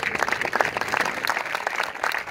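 An outdoor crowd claps at a motocross championship event, a short burst of scattered, moderately distant applause.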